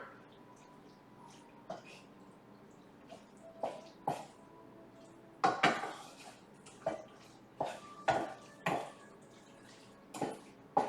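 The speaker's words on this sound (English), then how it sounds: "And then we stir it." A spoon knocks and scrapes around a pot of homemade spaghetti sauce, a series of irregular clacks and clinks against the metal with short gaps of quiet between them.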